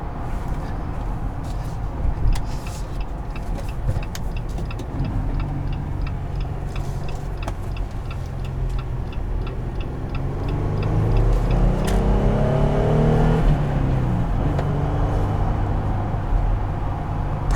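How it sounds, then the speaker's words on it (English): A 2020 Jeep Gladiator Rubicon with a V6 and manual gearbox runs at a steady hum with some ticking, then its revs climb audibly louder and rise in pitch as it accelerates. "I really like the sound of it. It's a typical V6 sound."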